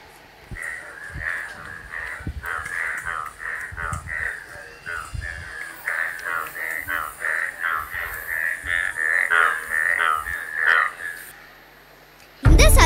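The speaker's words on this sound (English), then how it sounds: "I guess is the croaking of a frog" Rhythmic croaking from a frog repeats in a steady series of rasping calls over about ten seconds at a school annual day performance, moderately loud, followed by a sudden loud burst at the end.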